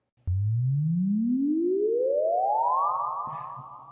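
A synthesized sci-fi sound effect: a single pure tone sweeping steadily upward in pitch over about three seconds with reverb, ending in a soft tail, a faint click at the start, alone and loud.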